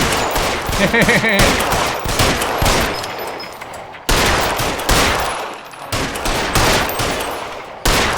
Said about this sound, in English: I was trying to shoot down that sign